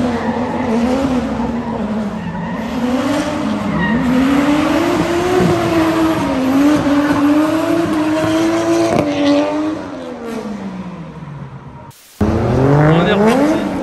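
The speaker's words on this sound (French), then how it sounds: "on est reparti pour une session drift" Car drifting with the handbrake, tires squealing in long, wavering screeches over a loud revving engine, close by and continuous, with a brief cut near the end before the squeal resumes.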